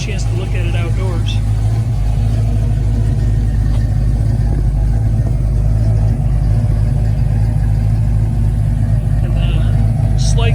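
The 5.0 engine of a 1967 Ford Mustang convertible idles outdoors with a steady, loud, deep rumble that holds even throughout, while someone talks over it.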